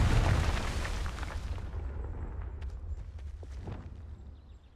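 Confringo, the explosive spell in Hogwarts Legacy, goes off as a deep rumbling blast that booms loudly at first and then slowly fades, with a few faint crackles trailing behind.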